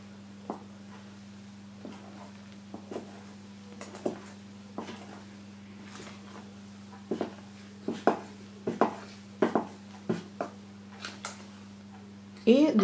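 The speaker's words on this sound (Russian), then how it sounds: "Далее добавляем молоко. И опять перемешиваем." Sponge cake batter is stirred after milk is added, soft irregular taps and scrapes of a utensil against a bowl close by, growing denser and louder toward the end over a steady low hum.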